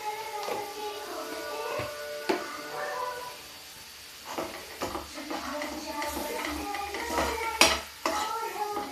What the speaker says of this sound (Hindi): अब इस मसाला को हम पका लेते हैं।